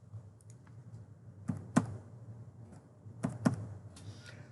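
A model number typed on a computer keyboard during signal generator calibration work: a few sparse key clicks, with two sharper pairs of taps, quiet and close over a faint low room hum.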